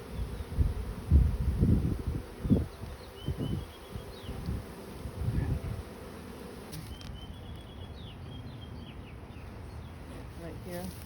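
A swarm of honeybees buzzes in a soft, steady hum around a hive entrance, with muffled handling thumps and close talking over it.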